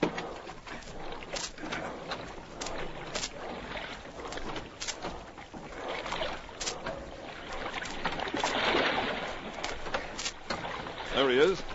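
Oars dip and creak as a dinghy is rowed through water in an old-time radio drama, a steady splashing rhythm carrying on beneath voices talking throughout, with a short warbling call near the end.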